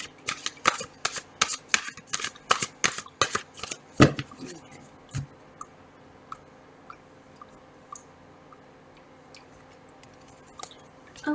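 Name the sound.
shuffling cards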